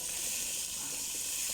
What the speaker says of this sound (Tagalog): lagyan natin ng tubig.